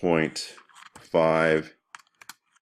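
Computer keyboard keys are tapped in a few quick, light clicks right after someone speaks briefly, close and clear.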